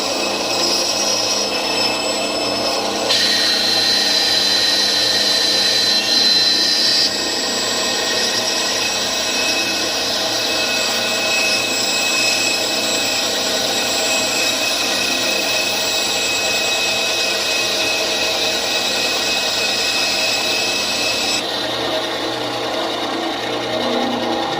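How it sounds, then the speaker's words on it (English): A small bandsaw runs steadily on its own, a continuous close whirring hum with a slight shift in tone partway through and no talking. "we can safely say that our little bandsaw is ready to be pushed into service."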